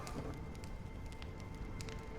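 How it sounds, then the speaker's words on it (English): Rain falls in Honkai: Star Rail as a dense, steady patter with scattered sharper drops, close and moderately loud throughout, with no talking. "When will this rain ever stop?"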